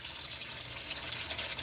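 A thin stream of warm 0W20 motor oil from a 2025 Kia Sorento trickles and splashes steadily into a drip pan, faint and continuous for a moment.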